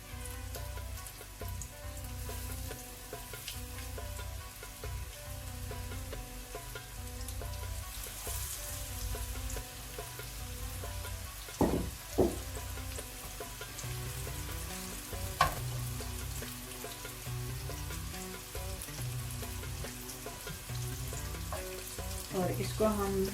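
Chicken patties for burgers frying in a pan over a medium-low gas flame, a steady close sizzle and crackle with a few brief clinks of the patties being turned or placed.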